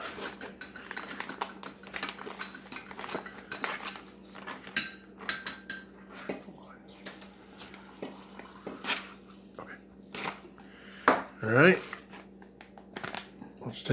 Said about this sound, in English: let's get our meatballs and pasta opened up.